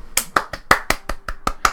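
A lone pair of hands claps rapidly and loudly close by, about nine sharp claps in a quick, slightly uneven rhythm, with no voices.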